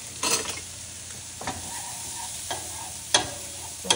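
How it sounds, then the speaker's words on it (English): Celery and onions saute in butter in a pan as a tuna noodle casserole base, a steady soft sizzle broken by a few sharp scrapes of a utensil stirring, close by with no talking. "we're gonna saute the celery and the onions"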